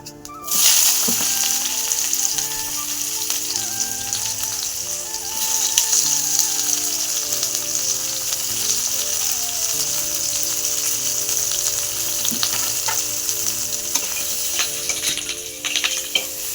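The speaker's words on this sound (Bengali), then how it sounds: "হালকা লাল করে ডিমটাকে ভেজে নিচ্ছে।" Eggs sizzling steadily in a hot pan of oil as they fry to a light reddish brown for a spicy egg curry, a loud continuous crackle with a few stirring clicks and no talk.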